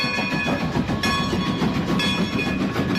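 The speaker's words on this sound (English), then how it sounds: "I had never heard a steam engine bark so loud in my life." Steam locomotive 2102 runs close by with a loud, continuous chuffing roar, heavy rumble and hissing whine and faint rhythmic pulses, with no voices.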